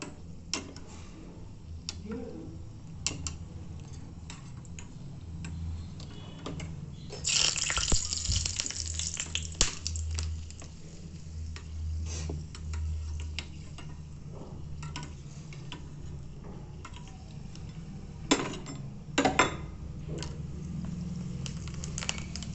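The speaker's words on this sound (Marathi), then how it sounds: "मिरच्या पहिल्याला आपल्या पहिल्यांदा तळून घ्यायच्यात त्या तळून घेऊया मिरच्या" Chilies fry in hot oil in a pan on a gas stove while curd rice is being made, giving irregular sharp crackles and pops over a low, steady sizzle.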